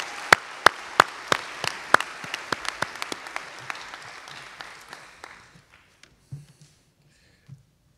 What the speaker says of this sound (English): another round of applause for our talented concert choir.